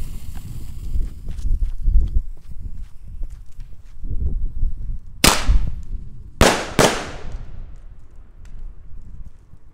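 Katan Thunder King Double 2.0 firecracker, two tubes joined with 5 grams of powder each, fires two sharp, loud bangs in quick succession after a stretch of footsteps and rustling outdoors.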